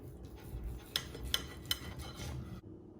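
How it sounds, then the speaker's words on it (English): Knife and fork working through a cooked steak on a plate, with a few sharp metallic clinks against the dish over a soft, steady scraping, close and fairly quiet. "Let's cut into the steak"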